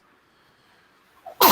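A child sneezes once, a sudden sharp burst right at the end after a near-silent stretch, close and loud.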